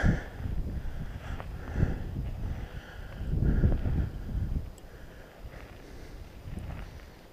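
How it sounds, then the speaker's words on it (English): Low rumbling wind gusts buffet the microphone outdoors outside a canyon in California, rising and falling in waves, with no voices. "There's a lot of wind outside this canyon."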